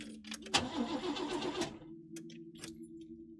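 A car engine in a video game cranks and whirs for about a second but fails to catch, followed by a low hum and a few faint clicks, quiet and close.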